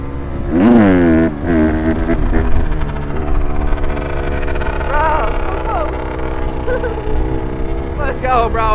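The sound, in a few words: jet ski engine running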